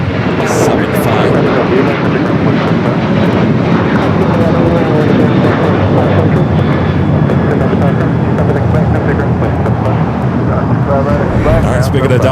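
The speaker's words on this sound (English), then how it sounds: "Delta 757 just touching down here on the south side." A Delta Boeing 757 touches down on the south side runway at LAX, a loud sustained jet roar filling the whole stretch with steady broadband rumble, while people talk faintly in the background.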